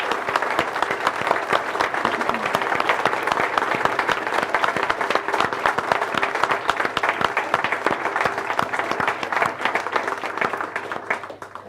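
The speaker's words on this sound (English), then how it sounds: "So just, for the video, folks, if you can give him a cheer." An audience at a closing ceremony applauds loudly and continuously, dense clapping filling the room from start to finish, with some cheering in the crowd.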